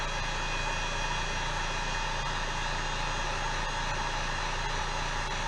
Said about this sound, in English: Got our heat gun.